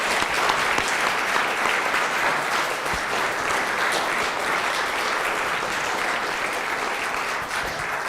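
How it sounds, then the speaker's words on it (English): Sustained, loud applause fills a village council public meeting after a swearing-in of police officers and firefighters, a dense crowd of clapping holding steady for several seconds without talk. "Let's give everybody a round of applause."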